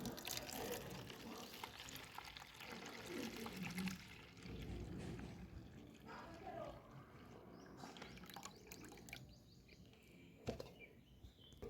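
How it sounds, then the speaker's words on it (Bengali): Water slowly poured off settled raw potato starch in a home kitchen, soft trickling and splashing that comes and goes, fairly faint with some handling noise. "এবার এই জলটা আস্তে আস্তে আমি ঢেলে দেব।"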